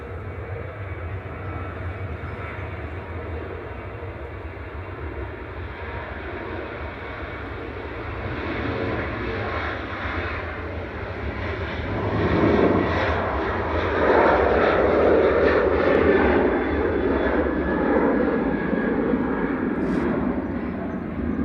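A Boeing 737-800 airliner passing at Manchester Airport, a broad steady jet engine roar that swells louder midway as the aircraft nears, continuous and without talk.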